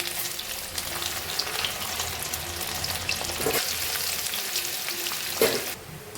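Sweet corn kernels fry in hot oil over a low flame, giving a steady close sizzle with occasional stirring scrapes before the sound drops off near the end.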